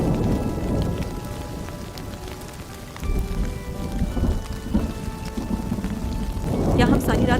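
Heavy rain pours steadily while thunder rumbles and cracks, growing louder toward the end; a voice is faintly present.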